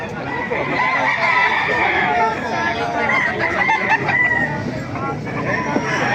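Roosters crow repeatedly at a busy Saturday-morning chicken market in Baliuag, Bulacan, their calls rising over a steady din of the crowd and other fowl, with faint voices mixed in.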